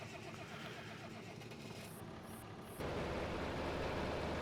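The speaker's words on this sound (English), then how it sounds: "Let's go ahead and take this tractor back down to the farm." A tractor engine in Farming Simulator 25 runs as a steady low rumble, with a slight jump in loudness partway through as it heads down to the farm.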